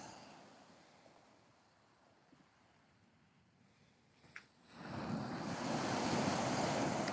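Waves and rising water wash onto a shoreline near Portsmouth, starting as a soft, wind-buffeted hiss, then swelling into a loud, continuous rush of surf for the second half.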